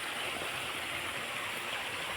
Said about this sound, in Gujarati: કંઈક આવું જાય છે પાણી.